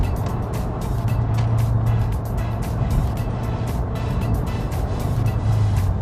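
Mazdaspeed 6 sedan making about 300 wheel horsepower with a short shifter and aging Eagle F1 Asymmetric tires, heard from inside as it accelerates on a highway: a steady, loud engine drone with road and tire roar throughout.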